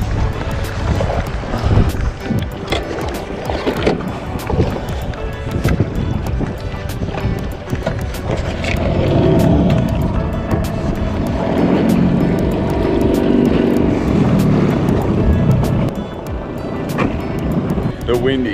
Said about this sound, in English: The wind is up this morning,